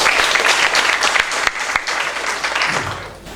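An assembled audience of students and officials at a junior high school event in Lamongan claps together in a brief, lively burst of applause, with a few sharp individual claps standing out before it tapers off.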